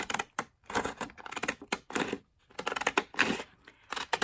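Scissors snip paper for collage craft tags in a quick, uneven series of short crisp cuts with brief pauses between, close by and with no talking.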